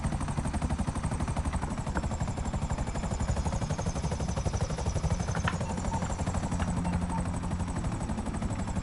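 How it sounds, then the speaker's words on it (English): A helicopter in the GTA video game thumps with a steady, loud rotor chop and a high turbine whine, holding constant and close throughout with no talking. "I'll put the chopper on the sand here"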